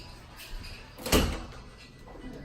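An apartment door opens with a single sharp thud and rattle in a quiet room, preceded by soft handling noises and followed by a brief fading tail.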